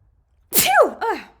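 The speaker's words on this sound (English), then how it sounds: "Ooh, I think I have a sneeze." A single loud sneeze bursts out, a sharp noisy onset followed by a brief voiced tail, close to the listener.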